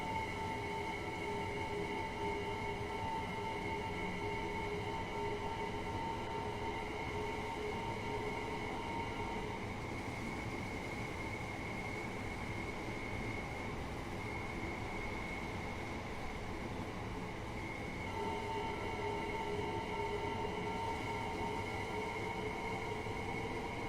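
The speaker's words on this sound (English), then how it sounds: "I'm actually just really enjoying the just driving this train" A train driven in the video game Train Sim World 3 rumbles steadily with a constant engine drone and tonal hum throughout, loud and continuous with no talk.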